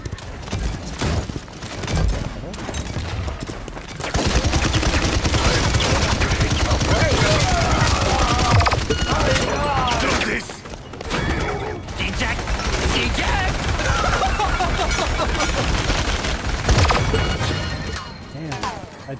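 In the Paladins PC shooter, a weapon releases all its stored shots at once in dense, loud bursts of rapid gunfire and mechanical clatter. Short pauses split the bursts, and a voice talks over them.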